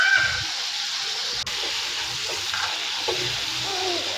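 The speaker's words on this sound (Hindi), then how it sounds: "यहाँ पे मेरा मसाला फ्राई हो चुका था। यहाँ पर टमाटर डाल दिए हैं मैंने" Tomatoes fry in a spice masala with a continuous, fairly loud hiss and crackle, broken by soft occasional stirring knocks.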